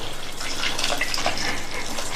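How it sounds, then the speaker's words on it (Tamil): Freshly boiled water poured into a cooking pot over cauliflower pieces with rock salt and turmeric, a steady close splashing rush that runs without pause and carries no voices. "இது கூட நல்லா கொதிக்க வச்ச தண்ணியை சேர்த்துடலாம்"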